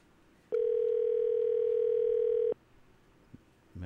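A telephone line gives a single steady electronic tone lasting about two seconds after a number is dialed, clear against a quiet background, followed by faint clicks.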